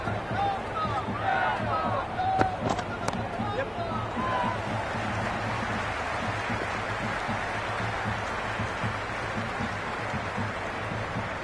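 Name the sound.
cricket stadium crowd cheering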